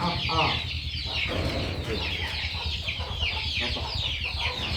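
Native country chickens cluck steadily and close by on a farm, a busy flock with overlapping calls over a low constant hum, with no pause throughout.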